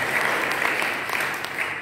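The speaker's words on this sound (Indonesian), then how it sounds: "Tepuk tangan dulu" Church congregation applauding together during a Saturday worship service, a steady wash of clapping that carries through the whole moment without talk on top.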